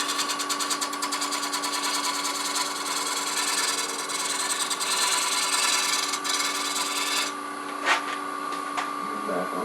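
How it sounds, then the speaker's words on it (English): A bowl gouge shear-scrapes wood spinning on a lathe while a wooden table lamp is being turned, giving a steady, close scraping hiss over the machine's even whine, with a brief sharper scrape near the end. "The bowl gouge, get a little bit of a shear scrape here"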